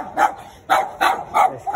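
Chihuahuas bark in quick, sharp yaps, about five barks in a rapid uneven rhythm, close and loud with no talking.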